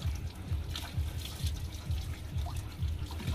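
Water poured over a dog during a bath, a close, gentle trickling and splashing in a steady rhythmic pattern of repeated pours, fairly quiet, with no clear talk.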